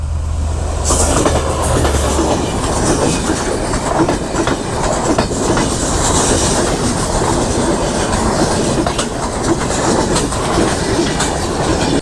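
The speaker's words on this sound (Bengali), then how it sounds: "আরেকটা ট্রেন আসতেছে, সেই ট্রেনটাও দেখে যাই" A train passes close by, loud and continuous, its wheels clattering in a rhythmic clickety-clack with occasional squeals, no voices.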